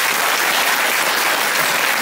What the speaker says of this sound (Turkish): alkış alabilir miyiz?